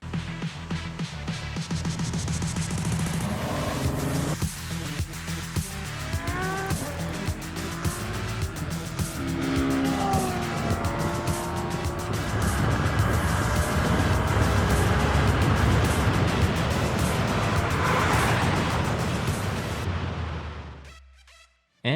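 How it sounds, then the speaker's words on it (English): A Tesla Model S Plaid drag races a Ferrari F12 while the Ferrari's engine roars loudly, its pitch climbing and shifting through rising sweeps, then cutting off abruptly at the end. "If you've been wanting to see a Model S Plaid give a Ferrari F12 Enzo a 2-second head start,"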